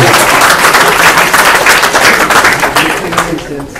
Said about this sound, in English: It's a round of applause, isn't it, really?